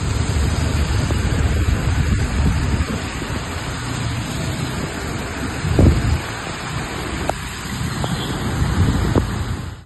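Heavy rain pours down in Hyderabad, a loud, dense and constant wash of falling water, with a few brief thuds and knocks standing out near the middle and end.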